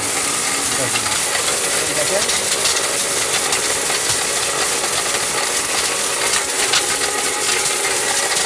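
A powerful electric blender motor runs steadily with a loud, continuous hissing roar that does not change from start to finish.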